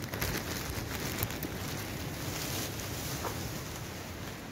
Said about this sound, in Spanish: mira cómo suena el río